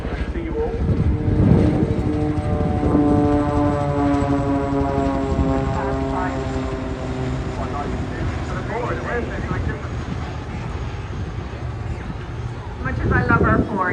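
A Chinook helicopter flies past at the Bournemouth Airshow 2022, its deep droning rotor and engine noise steady and loud throughout, swelling near the end, with a voice talking over it.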